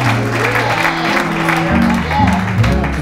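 Congregation applause for a pastor during a church service, steady clapping mixed with a musical or organ-like tonal backdrop that carries through the whole stretch.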